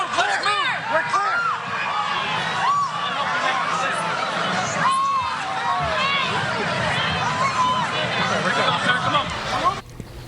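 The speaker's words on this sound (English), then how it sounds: "you hear the screams in the crowd as people are beginning to learn that something is amiss there" Crowd at a Trump rally screaming after gunshots, many overlapping high, rising shrieks and shouts spread across a large outdoor gathering, sustained and chaotic throughout.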